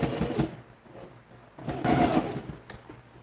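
A sewing machine stitches fabric for a tote bag in two close, loud runs of rapid motor whir and needle chatter, separated by a quieter pause.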